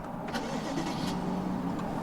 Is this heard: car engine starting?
yes